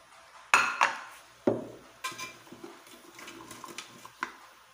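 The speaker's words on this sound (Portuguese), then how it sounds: "Agora nós vamos colocar ele no papel toalha para escorrer um pouco esse óleo." Pork cracklings scooped out of a pot onto paper towel, a run of metallic scrapes and clinks of utensil against the pot, close and irregular, with softer rustles between.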